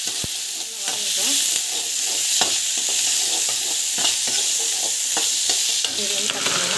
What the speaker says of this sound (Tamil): ஆயில் வந்து நல்லா காஞ்சி பிறகு கட் பண்ணி வச்ச வெங்காயத்தை வந்து ஆட் பண்ணிக்கலாம்